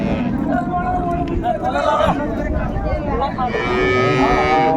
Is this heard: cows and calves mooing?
yes